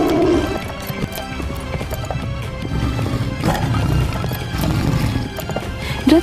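Horses pulling a chariot at a frantic gallop, with steady thudding hoofbeats and a rolling clatter that carries throughout, joined by a brief whinny at the start and end, loud and close.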